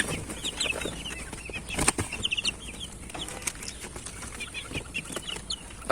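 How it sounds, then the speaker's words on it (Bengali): Egyptian Fayoumi chickens cluck in soft, scattered calls, with occasional wing flaps and rustling in a quiet coop, faint and irregular with no talking. "আমাদের ফাউমি মুরগিগুলা"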